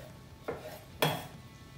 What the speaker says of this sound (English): Now we can just cut some bits of our mango, put it in a bowl.